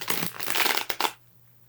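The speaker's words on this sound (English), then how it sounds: "Oh yeah, we love a good riffle shuffle." Standard-size tarot cards being riffle shuffled make a quick crackling flutter that ends in a couple of sharper snaps as the halves bridge together, then quiet follows.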